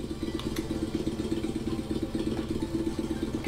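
A video game motorbike engine idles with a rapid, rhythmic putter, steady and close, sounding slightly synthetic and looping throughout.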